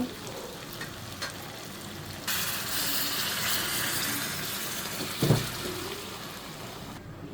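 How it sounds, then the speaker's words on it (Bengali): Hot water broth is poured into frying vegetables and lentils, the soft sizzle jumping to a louder, broad hiss and rush partway through, with a brief clunk near the end and no talking. "এখন আমি এখানে গরম পানির ঝোল দিয়ে দিব"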